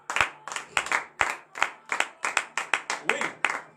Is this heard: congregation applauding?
yes